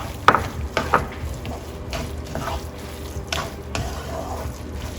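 Sweet coconut rice cooked in coconut milk simmers in a pot, giving a low bubbling bed of sound, while a spoon stirs it with several light knocks and scrapes at uneven intervals.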